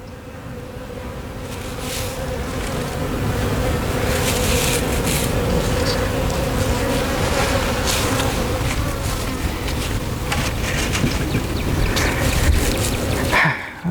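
Honeybees fill a hive with a close, continuous buzzing hum while a drone bee is trapped inside; the drone holds steady for the whole stretch with a few brighter buzzing swells and no talking.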